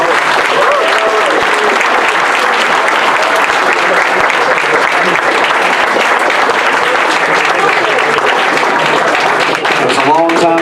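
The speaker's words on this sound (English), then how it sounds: "Let's give them all another round of applause." Sustained audience applause for Republican congressional debate candidates in Georgia's 6th district, dense and steady throughout, with a few voices faintly audible near the end.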